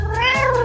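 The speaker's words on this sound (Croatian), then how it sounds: "O ne, u njoj je moja mačka." A cat meows from inside a basket, one drawn-out, rising-then-falling meow lasting under a second, close and clear with no talking.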